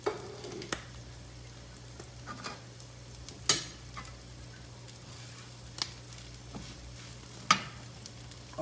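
Canadian bacon and sliced bacon frying together in a pan, giving a faint, steady sizzle broken by occasional sharp pops and crackles, with no talking.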